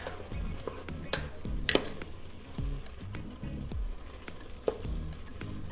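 Ground beef, minced garlic and onions sizzle in an Instant Pot, a soft frying hiss punctuated by scraping and clacking of a utensil stirring the pan, close and moderately quiet.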